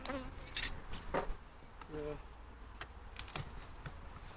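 Honeybees working inside an open Dadant hive make a steady insect buzz, with faint clicks and knocks from the hive frames.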